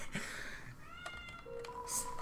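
A cat in the Undertale video game gives a short meow amid chiming game sound effects and tones, fairly faint.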